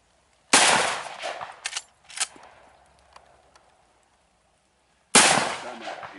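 Two loud, sharp Marlin rifle shots several seconds apart, each followed by a rolling echo, with a few faint clatters in between.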